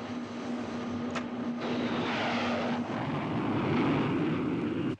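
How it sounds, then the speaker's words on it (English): Aircraft engine of a chase plane taking off at a missile launch site, a steady broadband roar that swells slightly and holds loud throughout with no voices. "Chase plane, take off."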